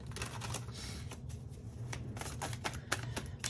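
Tarot cards being shuffled by hand: a steady run of papery riffles and soft slaps, close and continuous, with brief sharper flicks, no voices.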